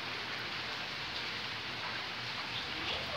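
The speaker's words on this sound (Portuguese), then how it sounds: "Essa chuva maravilhosa. Vem chovendo aqui, já é o terceiro dia que chove aqui na nossa região." Rain falls steadily in the Bahia backlands near Tremedal, Brazil, a dense, even hiss of drops on surfaces, close and constant with no pauses or voices.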